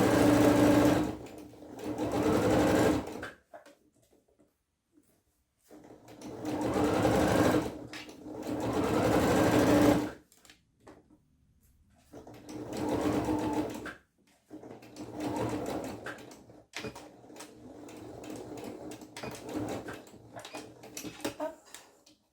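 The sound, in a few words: sewing machine stitching trouser fabric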